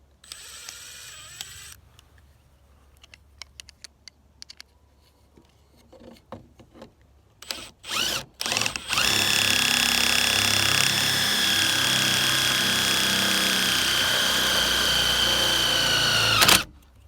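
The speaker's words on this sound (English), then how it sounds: "I was using an impact and I didn't drill that or screw that down tight enough for the impact to engage" Impact driver driving screws into a plastic motion-sensor light bracket on a bus: scattered clicks and handling knocks, then a few short bursts, then a sustained loud whirring run of several seconds that stops abruptly.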